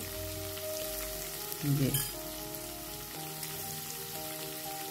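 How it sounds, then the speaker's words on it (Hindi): Marinated paneer fries in a pan, giving a faint, steady sizzle with a brief louder spatter in the middle. A short spoken word comes near the start. "हम अपने मैरिनेट किए हुए पनीर को तल लेंगे।"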